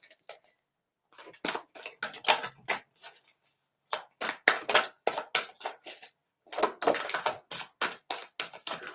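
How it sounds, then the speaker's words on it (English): Playing cards are shuffled in quick bursts of crisp riffling and snapping, close up, in three groups separated by short pauses. "So let's shuffle these cards"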